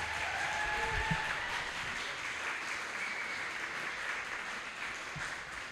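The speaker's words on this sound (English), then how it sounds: "So let's give a round of applause to everyone." A hall audience at the 2024 Goodwill Thrifting Hall of Fame ceremony gives a steady round of applause for the award winners, a dense, even wash of many hands, moderately distant and sustained throughout.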